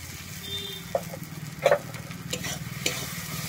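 Poppy seed and green chilli paste frying and being stirred in a pan, a soft steady sizzle with a few scraping clicks from the spatula, close and fairly quiet.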